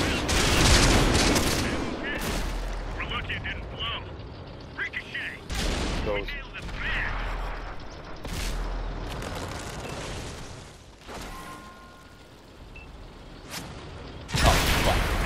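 Tank gunfire in World of Tanks, a handful of loud, heavy cannon blasts spaced irregularly across a battle, with rumbling engine and combat noise between shots.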